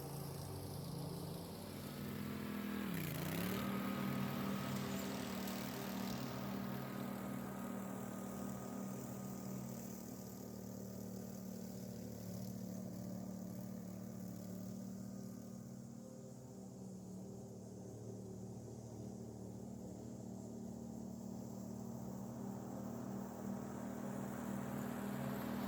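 Gravely Pro Turn zero-turn lawn mower running wide open across a lawn, a steady droning engine hum that swells briefly near the start, then holds constant for the rest.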